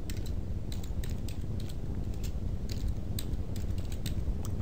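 Steady typing on a computer keyboard while entering a formula in a database query, with soft, close key clicks in irregular bursts over a constant low hum.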